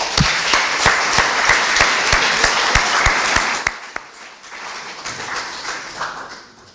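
An audience at a formal academic prize ceremony of a learned society applauds, loud sustained clapping that suddenly thins out and fades into a few scattered claps and room murmur.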